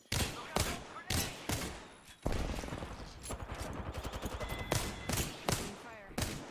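Repeated bursts of video game gunfire, some in rapid automatic strings, crack close and loud across a busy battle mix with a low rumble beneath.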